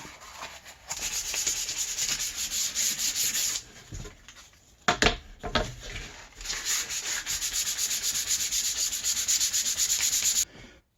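A PVC pipe sword blade being sanded with finer grain sandpaper: close, continuous rhythmic scraping strokes, pausing briefly midway with a few knocks before the rubbing resumes steadily.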